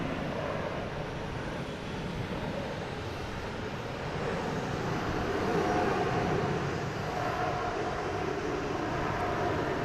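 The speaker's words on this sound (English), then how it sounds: "Coming in from Minneapolis, A321neo." An Airbus A321neo airliner arriving at Boston Logan from Minneapolis gives a continuous broadband jet roar, steady and moderately distant, swelling slightly mid-way with no voices.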